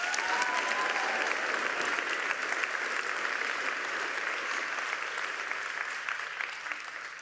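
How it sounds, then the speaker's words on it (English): An audience in a school gym applauds at a youth ceremony, a steady wash of many hands clapping that holds throughout and tapers slightly toward the end. "Let's give her another huge round of applause."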